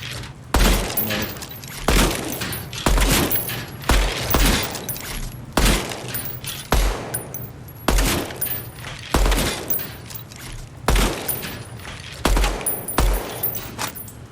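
Gunfire in the shooter game Deadrop, with single loud shots spaced every second or two, each a sharp broadband crack over a low steady game hum, heard close without talk.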